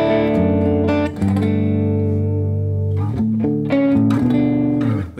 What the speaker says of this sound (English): I have my amps set up just on the edge of breakup.